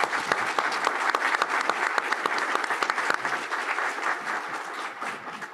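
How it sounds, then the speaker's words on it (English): A panel audience at a 2022 Kansas mental health summit gives a round of applause: steady, dense clapping from many hands that holds at moderate volume for several seconds before easing slightly near the end. "let's give them a round of applause"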